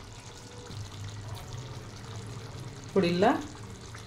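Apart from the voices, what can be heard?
water poured into chicken curry in pan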